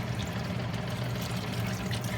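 Wine poured into a pan for cooking mussels gives a steady, close liquid splash and gurgle that continues evenly without pause or speech.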